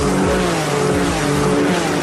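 Ferrari Enzo sports car engine revving hard, a loud steady roar with rising pitch sweeps, close and continuous with no talk.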